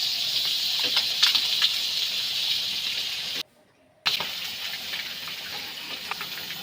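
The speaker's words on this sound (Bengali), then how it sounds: "বেশি ভাজবো না, হালকা করে করে ভাজবো" Eggs fry lightly in a pan for an egg sauce dish, a steady bright hiss and crackle that cuts out briefly midway, then resumes at the same level.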